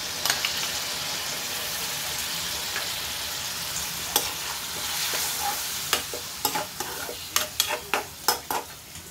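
Yogurt goes into a hot pan for an egg do-pyaza and is stirred through, a steady sizzle broken by a run of sharp spatula scrapes and clinks toward the end, close by with no talking.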